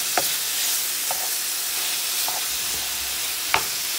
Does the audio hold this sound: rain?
no